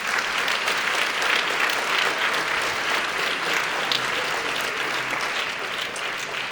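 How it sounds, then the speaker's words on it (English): A gala audience at a social justice institute's 20th anniversary celebration gives honorees a sustained round of applause, a dense, even roar of many hands clapping close and loud throughout, with no talking. "please join me again in giving our honorees a round of applause"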